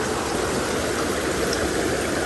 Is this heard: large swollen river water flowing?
yes